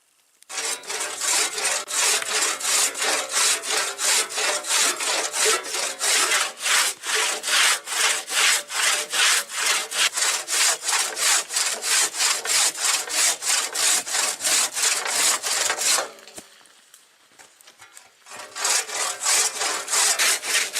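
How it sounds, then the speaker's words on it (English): Spruce boughs scrubbed hard across a camp pan outdoors in winter, a loud, steady run of rapid rasping back-and-forth strokes that pauses briefly near the end, then resumes. "Just take some spruce boughs, scrub it, and then I re-season it with some more oil."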